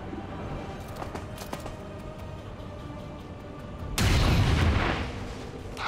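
A heavy XCOM 2 gunshot or blast erupts loudly near the end after a stretch of quieter clicks and ambient game sounds, holding a booming roar for over a second.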